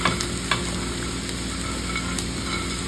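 Sautéed onions and chili for tofu sisig are stirred in a hot pan, with a constant close sizzle and a few sharp scrapes and taps of the utensil.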